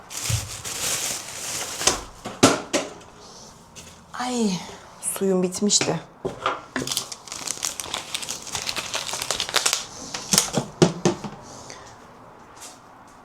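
Crinkly plastic shopping bags rustle in bursts, close to the microphone, while someone talks over it.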